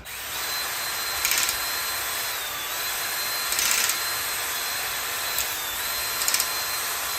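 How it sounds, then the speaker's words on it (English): A power drill with a hone whirs steadily with a high whine, rising in brief louder bursts four times as it grinds against the metal cylinder walls of an engine block. "So we're gonna do that for all 4 cylinders with a drill"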